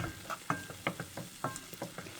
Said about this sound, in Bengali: এইবার এটারে মিশাবো আর গলাবো আলুগুলো একটু ভেঙে দেব